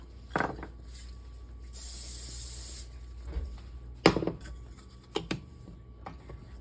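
A short hissing burst of cooking spray lasting about a second onto a metal baguette pan, followed by light clinks and knocks of the pan.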